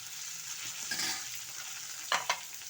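Turmeric and dried chili powder sizzle gently in hot oil in a pan, a steady quiet hiss close by, with two brief scraping stirs near the end.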